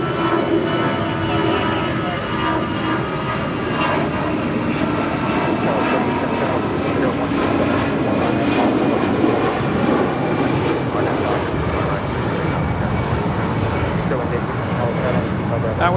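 American Airlines A319 jet departing LAX for Phoenix, a loud continuous engine roar that holds steady throughout, heard at a distance with voices talking over it.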